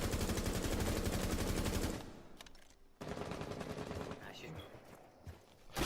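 Gunfire from hip firing a weapon with a laser sight in Rainbow Six Siege, a dense automatic burst that cuts off, then more scattered shots and game noise, loud and close.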